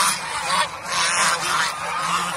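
Domestic geese honk close by, a few loud nasal calls overlapping in quick succession within a couple of seconds.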